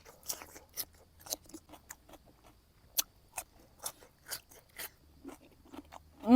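Fresh cucumber being bitten and chewed gives a series of crisp, close crunches in an irregular rhythm, with short pauses between bites and no talking.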